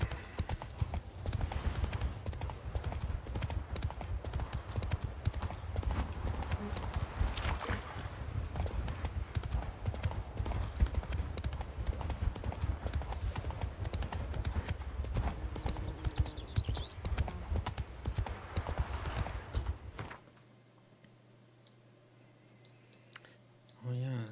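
Horse hooves clip-clop steadily and quickly while riding across terrain in The Witcher 3: Wild Hunt – Blood and Wine, a continuous rhythmic trot that runs for most of the stretch and then drops away to near quiet at the end.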